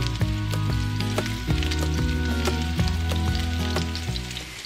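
Meatballs sizzle in a pan with a little olive oil, a dense steady crackle and spitting at close range, with faint scattered pops throughout and no voices.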